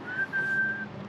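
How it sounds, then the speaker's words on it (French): A short, thin whistle, plausibly a toy train whistle, sounds for about a second, steady and fairly quiet, with low room noise underneath and no talking. "c'est un sifflet pour le train"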